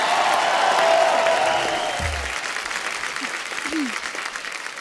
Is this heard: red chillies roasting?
no